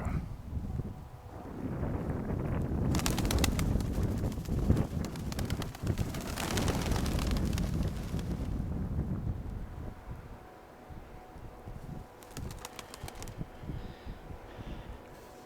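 Nikolaev breed pigeons outdoors, with soft cooing and bursts of wing flapping under steady gusting wind noise at a fairly close, moderate level; no one talks.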